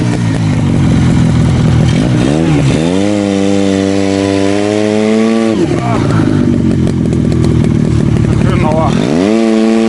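Buran snowmobile engine driving through snow, a loud close two-stroke drone that rises and falls in pitch as the throttle changes, revving up in several surges.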